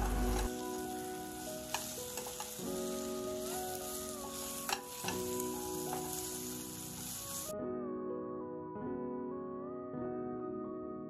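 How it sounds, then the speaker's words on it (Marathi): Vermicelli for upma roasting in oil in a pan, a steady bright sizzle that runs throughout, with tonal music playing over it and no voices. "शेवयांना मी तेलामध्ये परतून घेणार आहे थोडा वेळ, त्या लालसर होईपर्यंत"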